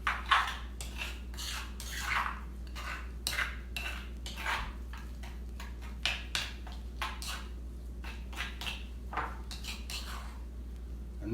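Carnitas nachos topping with lime and salt being stirred by hand, giving a run of irregular, close clinks and scrapes of a utensil against a bowl with no voices.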